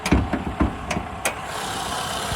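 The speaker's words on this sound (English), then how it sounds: "got that Toyota 4-cylinder engine. Sounds excellent." A 2009 Toyota Venza's four-cylinder engine idles at close range, a steady low rumble with a few sharp knocks and clicks over the first second and a half before settling.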